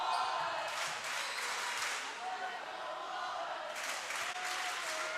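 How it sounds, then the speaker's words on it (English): Fans at a high school volleyball regional quarterfinal between Walnut Hills and Elder fill a gym with sustained crowd noise and applause that swells again near the end, with no clear chant rhythm. "We got the Walnut crowd chanting over there"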